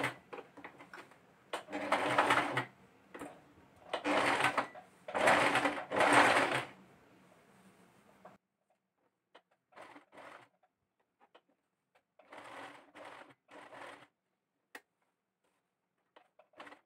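A sewing machine fitted with an applique presser foot stitches cloth in loud, close whirring runs of one to two seconds, then pauses before shorter, quieter bursts and a few isolated clicks.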